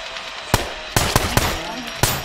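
Gunfire in the video game SCUM, five sharp, loud single shots at irregular intervals over a steady background hum.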